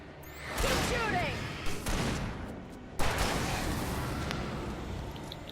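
Gunfire in the Alan Wake Remastered video game: a heavy booming shot, a short pause, then a second sharp blast, each followed by a long crackling tail, loud and close against a rumbling background.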